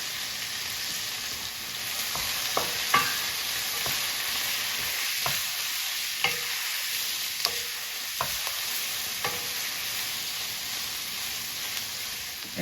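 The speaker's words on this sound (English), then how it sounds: "So now we're going to put a teaspoon of butter in." A teaspoon of butter sizzles steadily in a frying pan, a close, continuous hiss broken by occasional light clicks and taps from stirring.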